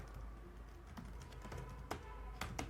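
Typing on a computer keyboard comes through as quiet, irregular key clicks with a few sharper taps, soft and close against a low background hum, with no talk.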